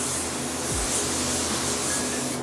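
A Fujispray V8 spray gun sprays in a steady, close, even hiss that runs unbroken from start to finish, with no talking.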